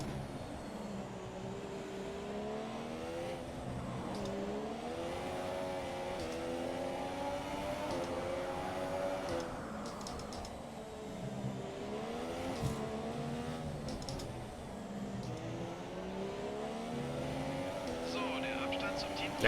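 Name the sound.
race car engine accelerating in F1 2017 video game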